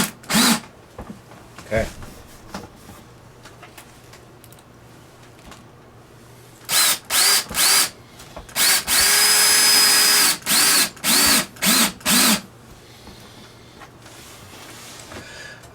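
A power drill drives screws through sill logs into the foundation of a 18x22 log cabin model, heard as several short whirring bursts and one longer run, with a brief spoken word and quiet handling noise between them.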